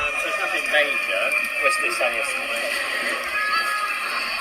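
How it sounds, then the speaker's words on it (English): A children's festival in a park with marquees: a busy outdoor wash of many distant children's and adults' voices, chatter and squeals blending into a continuous lively murmur. "And that's the sound of the Children's Festival."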